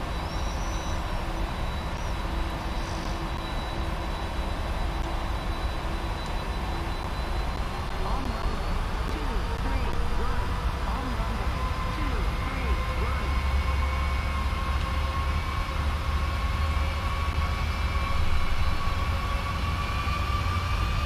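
Airliner engines in the Prepar3D flight simulator spool up for takeoff, a steady loud roar with rising whining tones that climbs gradually, heard under occasional speech.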